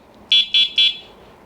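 Electronic buzzer on a DYU D3F ebike, three short loud beeps in quick succession, close and alone.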